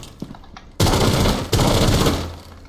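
Gunfire in Rainbow Six Siege: a sudden, loud burst of rapid automatic shots, cut briefly and then resumed, rattling on for nearly two seconds before tailing off.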